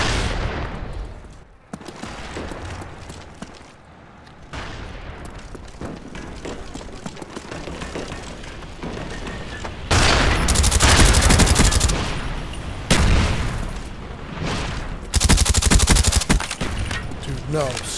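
Suppressed weapon gunfire in a video game: rapid bursts of muffled automatic shots, growing louder and denser in the second half, mixed with game effects and a person talking over it.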